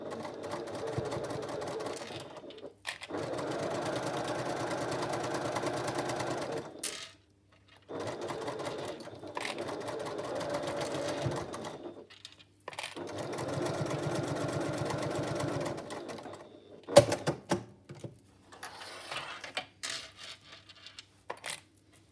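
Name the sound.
sewing machine stitching cork fabric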